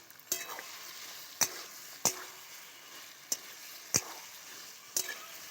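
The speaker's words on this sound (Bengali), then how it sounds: "পটল আর আলুগুলো দেওয়ার পরে 1 মিনিট আমি খুব ভালো করে কষিয়ে নেব" Pre-fried pointed gourd and potato pieces sauté in oil, a quiet sizzle under regular spatula scrapes against the pan about once a second, close and unaccompanied by voices.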